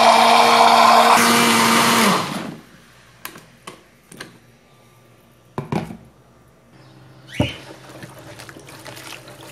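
A blender whirs loudly while blending avocado with oil for homemade soap, then cuts off, leaving a few scattered clicks, knocks and small liquid sounds from handling the jar.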